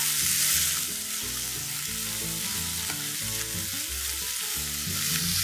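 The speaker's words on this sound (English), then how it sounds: "while the carrots are sauteing, I'm also going to add some peas" Carrots and peas sauté in a pan over a high flame, giving a steady broadband sizzle that runs continuously under prominent background music.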